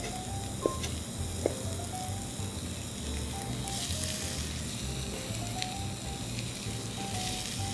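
Onion wilting in a pan sizzles in a steady, moderate hiss, with a couple of faint clicks of a utensil near the start and some bright bursts of crackle partway through. No one speaks.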